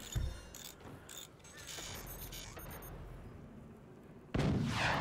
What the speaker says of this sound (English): Cannon shot.